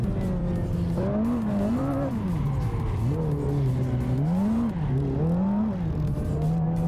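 A four-wheel-drive Ferrari drifting in the Assetto Corsa racing game, with an engine revving up and down and continuous tire squeal through wavering slides, loud and close throughout.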